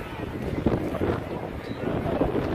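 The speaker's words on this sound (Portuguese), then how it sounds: "o que tá pegando também é o vento" Wind gusting at a crowded seaside pier in England, producing a rough, buffeting roar against the microphone that swells and dips throughout, with a faint murmur of people in the background.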